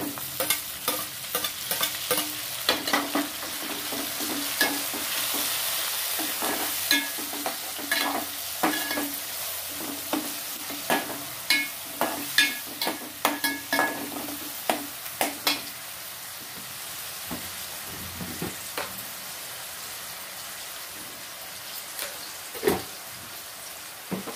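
Tomatoes stirred and fried in a pan while cooking an old-style pendlam and raw mango curry, with a steady sizzle under repeated scraping stir strokes close by and no talk.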